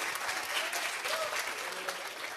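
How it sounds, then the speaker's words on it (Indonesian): Audience applause fills a conference hall during a business talk, a dense, steady wash of many hands clapping throughout at even loudness, with no clear pauses. "sok silakan mau tepuk tangan"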